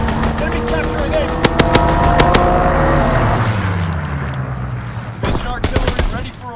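Gunfire in the World War II shooter video game Call of Duty WWII during a domination match on the Shipment 1944 map, with loud rapid automatic bursts and single shots over engine rumble and battle noise, with game voices talking.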